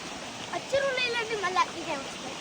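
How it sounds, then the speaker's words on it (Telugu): Rainwater rushes along a stream channel in a village, a steady broadband wash of flowing water heard beneath a voice talking. "చూడండి నీళ్ళు అయితే ఎట్లా పోతున్నాయో"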